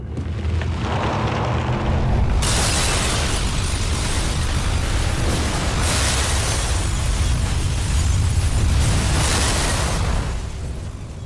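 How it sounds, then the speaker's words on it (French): Explosion at an old factory in a French action film, a loud sustained blast with roaring, crackling rumble and bursts of debris that carry on for many seconds before easing off. "C'était une explosion."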